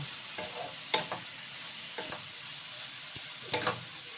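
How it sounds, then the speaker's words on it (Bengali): Grated carrots sizzle and fry in ghee as they are stirred, a steady soft crackle with occasional scraping strokes of the spoon, close and without speech. "এবার এই গো মানে গাজরটা আমি ঘিয়ের মধ্যে সুন্দর করে ভেজে নেব"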